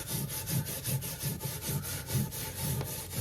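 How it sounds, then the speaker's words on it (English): Steel wool rubbed back and forth over a dried, refurbished surface to bring out wear marks, making close, rhythmic scratchy strokes about twice a second, with no talking. "I'm gonna use some steel wool"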